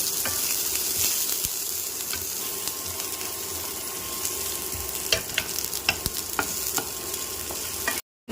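Onions frying and being stirred in a pan, with a steady sizzle throughout and repeated scraping clicks of a spoon against the pan, fairly close. No one speaks.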